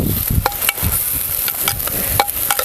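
Garlic, green chilli and onion sautéing in a pan: a loud, close sizzle with repeated spatula scrapes and clinks every half second or so, no voices.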